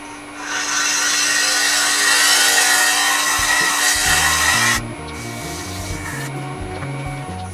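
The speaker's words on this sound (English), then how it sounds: "So I'm shear scraping." Scraper shear scraping a small wooden plate on a woodturning lathe: a steady, loud, close hissing scrape over the lathe's hum, stopping partway through, after which the motor tone shifts and carries on alone.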